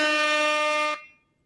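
A single loud, sustained air horn blast holds steady for about a second, then cuts off abruptly, leaving near silence.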